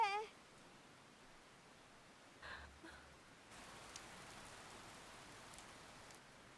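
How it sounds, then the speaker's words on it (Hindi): Steady rain falls as a soft, faint broadband hiss that thickens partway through, with a few brief sounds near the start. "फिर से बारिश शुरू हो गई है"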